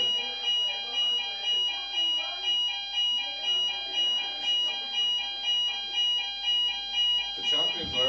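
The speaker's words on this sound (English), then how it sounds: "Don't know why there was a fire alarm going off" A fire alarm sounds at Anfield stadium during a Liverpool Premier League trophy-lift celebration: a loud, steady pulsing electronic tone repeating about twice a second, with a voice breaking in at the very end.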